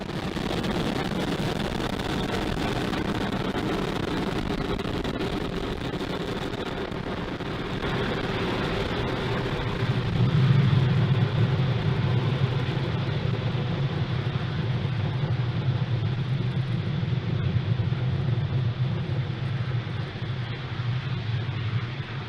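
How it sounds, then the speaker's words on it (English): Falcon 9 rocket climbing away after liftoff on a Starlink launch, a continuous deep roaring rumble that holds steady, swells slightly midway and persists with a broad, wind-like texture. "Falcon 9 has successfully lifted off from Pad"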